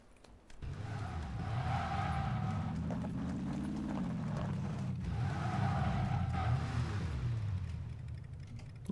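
A car drives in the video game PUBG, its engine tone rising and falling through two revving passes over a steady rumble, fairly close with no talking.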